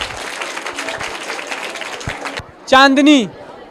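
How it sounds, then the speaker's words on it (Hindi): An audience at a school prize event claps for a second-place winner in a steady burst for about two and a half seconds, then stops as a single voice speaks briefly. "बिपिन यादव जो कि हमारे सेकंड विजेता है, तो इनके लिए भी जोरदार तालियां हो जाए"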